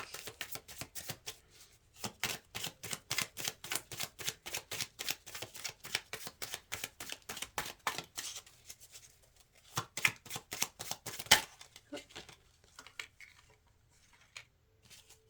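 Tarot cards being shuffled in quick riffling bursts, repeated rhythmically for several seconds, close by, then a few softer handling sounds.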